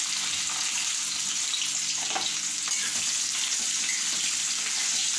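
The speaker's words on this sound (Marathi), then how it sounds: "कांदा छान परतवायचा आहे।" Chopped onion sautéing in hot oil with mustard seeds and cumin for a dhaba-style dal tadka, a steady dense sizzle holding level throughout, close and unbroken, with a few faint crackles and no voices.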